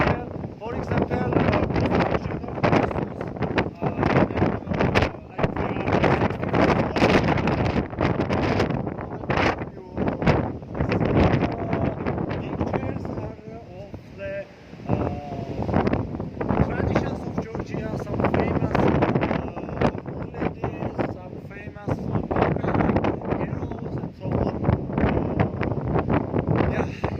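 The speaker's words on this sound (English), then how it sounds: "It's very windy." Heavy wind buffets the microphone in constant roaring gusts on a tour in Georgia, with a voice talking intermittently underneath the rumble.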